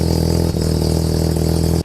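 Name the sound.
Mazda RX3 12a rotary engine idling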